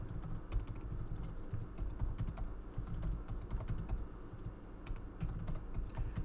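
Computer keyboard typing in steady, quick bursts of key clicks at close range, running throughout with no speech.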